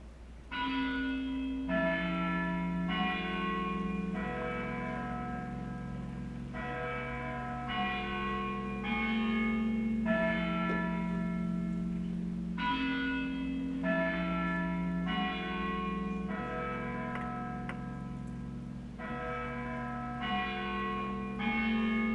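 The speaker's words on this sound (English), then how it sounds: "When the bell did strike 1, he found himself trembling with fright." Church bell with a rich, sustained ringing tone and strong overtones, several strikes overlapping over a steady low drone that fills the whole stretch, loud and continuous with no talk.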